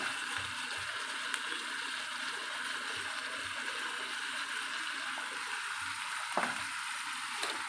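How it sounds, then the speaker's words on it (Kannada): Turmeric and chilli powder fry in hot oil for tomato chutney, a continuous bright sizzle with occasional soft stirring knocks close by. "ಇವಾಗ ಇದು ಚೆನ್ನಾಗಿ ಫ್ರೈ ಆಗಬೇಕು"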